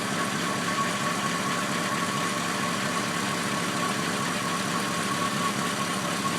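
A 1941 Cadillac 62 sedan engine with a rebuilt carburetor idles steadily just after start-up, an even, continuous mechanical hum heard close and alone.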